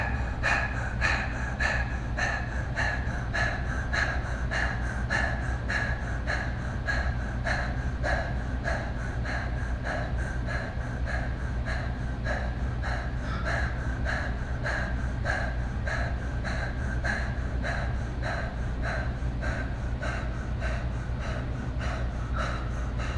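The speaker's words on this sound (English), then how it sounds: "We're going to do breath of fire, so equal inhale, exhale, letting the belly fill on the inhale, pulling the belly back towards the spine on the exhale." Breath of fire yoga breathing, rapid equal inhales and exhales in a steady fast rhythm, close and continuous throughout, with a low steady hum underneath.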